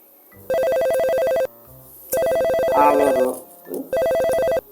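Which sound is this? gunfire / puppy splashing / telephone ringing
telephone ringing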